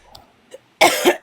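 A single loud, harsh cough bursts out at close range near the end, after a couple of faint small throat sounds.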